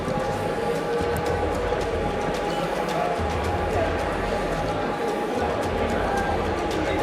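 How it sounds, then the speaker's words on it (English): A loud, noisy edge server running, giving off a constant broadband fan roar and hiss that holds steady at close range for the whole stretch, with no pauses or changes. "Does your edge server sound like this?"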